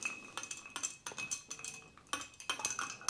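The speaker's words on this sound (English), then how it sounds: "Let's give it a stir." A spoon stirs an old fashioned cocktail in a glass, making quiet, rapid clinks and scraping in an irregular rhythm up close.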